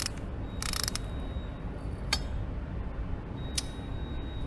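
A hand ratchet tightens the oil drain bolt on a Kove 450 motorcycle, giving a few short bursts of crisp clicking spaced a second or so apart over a low steady background hum.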